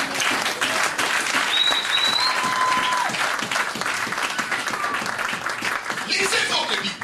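A church congregation applauds to acclaim the Lord during a French-language sermon, sustained loud clapping from a crowd with scattered voices and cheers mixed in, steady from start to finish.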